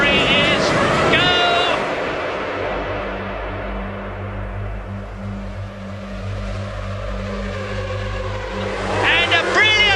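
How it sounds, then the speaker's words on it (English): Formula One cars launching from the grid at the start of a Japanese Grand Prix, a dense roar of many engines with rising pitch and sustained drone, heard under continuous excited race commentary. "The lights go out and the Japanese Grand Prix is go!"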